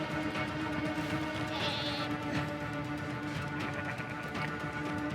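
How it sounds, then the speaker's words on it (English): Sheep bleat from a game trailer, one drawn-out bleat rising clearly over a steady, dense background of ambient music and sound, with a few fainter calls around it. "It just got some sheep."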